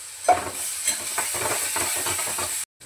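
Chopped onion and tomato sauté in a pan, a steady close sizzle with repeated stirring scrapes, no voices, cutting off abruptly at the end.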